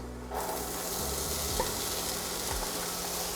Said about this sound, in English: we're gonna saute our corn for about 10 minutes